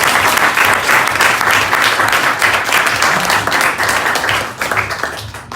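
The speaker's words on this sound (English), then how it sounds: "round of applause for the club." Loud, sustained applause from a Rotary club audience at its 100th anniversary charter night dinner, dense continuous clapping filling the room for several seconds before thinning slightly at the end.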